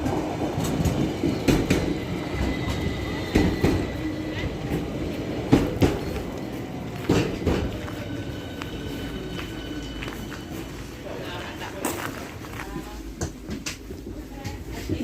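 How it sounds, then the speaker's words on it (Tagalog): An electric train pulls into a station stop near Starý Smokovec in the Tatra mountains, its broad rumble and rattle steady with a few sharp knocks and a faint rising squeal, plus nearby footsteps. "Parating na yung train."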